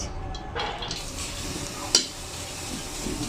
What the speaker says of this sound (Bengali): আমার কড়াইটা গরম হয়ে গেছে আমি এখানে দিয়ে দিচ্ছি পেঁয়াজ মরিচ